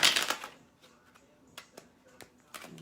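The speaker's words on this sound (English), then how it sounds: "I'm going to use this Deviant Moon Tarot again. Just give it a quick shuffle." Deviant Moon tarot cards are given a quick shuffle: a burst of riffling at the start, then scattered soft taps and card flicks at irregular intervals, close and quiet.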